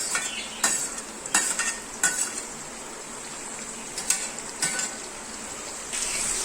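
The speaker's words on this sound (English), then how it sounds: "Mix it well for few seconds." A spoon scrapes and clinks in a pan as chopped tomatoes are stirred into sizzling masala over medium flame, with sharp utensil strikes at irregular intervals over a steady frying hiss.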